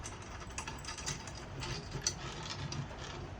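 Snare drum tension rods being tightened with a drum key, giving quiet repeated ratcheting, mechanical clicks at close range, with no talking.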